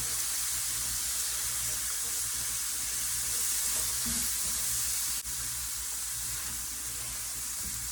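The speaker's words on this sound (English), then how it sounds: "I'm just gonna cook this down until it starts to caramelize." Bacon bourbon jam sizzles steadily in a pan as it cooks down toward caramelizing, a dense, even frying hiss that holds at the same level throughout, with a brief stir or scrape partway through and no one speaking.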